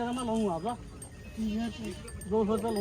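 A goat bleats several times in short wavering calls, close by, with brief pauses between cries, at a goat market in Dhanaula, Punjab.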